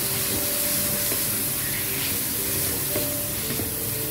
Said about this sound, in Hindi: इसको भी मैंने साथ फ्राई करना है